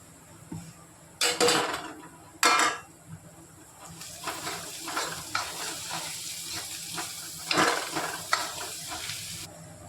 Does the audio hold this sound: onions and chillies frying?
yes